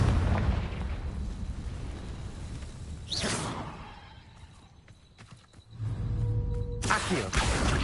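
A fiery Confringo spell blast erupts in Hogwarts Legacy with a sharp whooshing burst, followed by rumbling, crackling game action and a second loud surge near the end.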